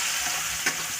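Ground green chili, garlic and salt fry in hot oil in a kadhai over low heat, giving a steady close sizzle with a brief stirring scrape partway through.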